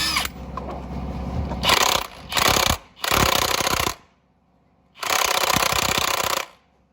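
Impact wrench hammering at an Acura TL crank pulley bolt in three loud bursts, then a pause and a fourth longer burst, over a low engine-bay rumble.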